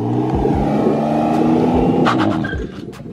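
A BMW E46 revs hard while drifting, its engine roaring loud and close in sustained, rising and falling surges with tire noise underneath, easing off toward the end.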